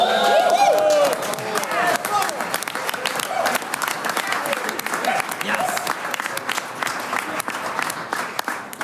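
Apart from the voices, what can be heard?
audience applause at a folk choir concert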